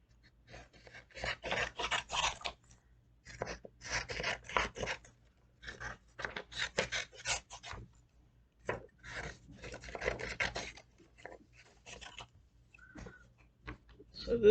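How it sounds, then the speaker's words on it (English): Scissors cut around a paper sublimation design, making soft rasping snips in irregular bursts with short pauses between, quiet and close. "So we take our design and we're going to cut it out. Just cut around it."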